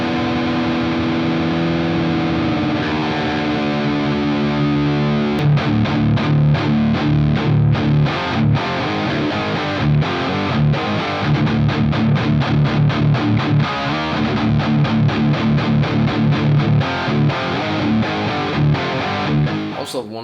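A Gunnar Örn LOKI electric guitar, down-tuned to drop D, chugs distorted riffs. Palm-muted low chords repeat in a tight, choppy rhythm after a sustained opening chord, loud and up front.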